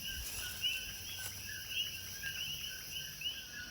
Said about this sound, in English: Here's one of the little coqui frogs.